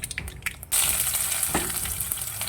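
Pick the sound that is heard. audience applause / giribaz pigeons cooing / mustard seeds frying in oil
mustard seeds frying in oil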